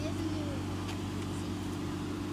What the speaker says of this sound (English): I think I hear the bus. There's the bus.